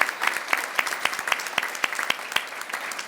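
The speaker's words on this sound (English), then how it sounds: "One more round of applause for our students" Applause from an audience at a school co-op banquet, a dense wash of hand claps with sharper individual claps standing out, steady and fairly close for about three seconds.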